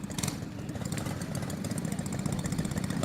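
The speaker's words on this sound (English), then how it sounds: "The engine revs are rising." Tillotson T4 racing karts revving engines before the race start, several small engines buzzing and rattling together in a dense continuous drone with rising intensity, nearby and loud.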